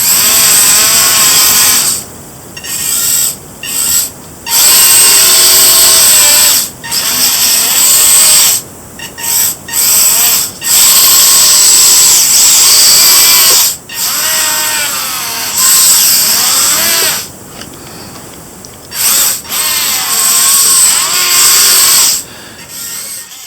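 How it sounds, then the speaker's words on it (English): A 1/32 scale RC 8x8 skid-steer wheel dozer drives over obstacles, its small electric motors and gears whining loudly in repeated bursts that rise and fall, with short pauses between runs. "I'm going to give you a quick demonstration how the chassis goes over obstacles."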